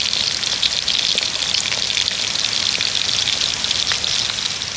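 A continuous bright crackling sizzle of chicken pakoras deep frying in hot oil over medium heat, steady and close, with no voices.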